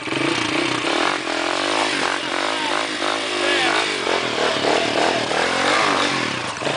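Trail motorcycle accelerating hard over rocks on a Bahia trail event, with a loud continuous engine roar and clattering, revving throughout, while excited voices shout over it.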